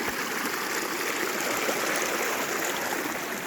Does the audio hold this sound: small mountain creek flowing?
yes